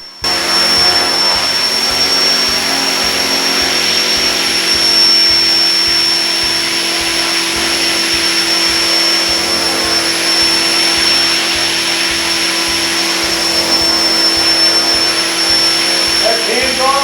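Align T-Rex 470L RC helicopter hovering close by, a loud, steady high-pitched whine with a constant rotor buzz and pulsing low thrum for the whole stretch, no talking over it.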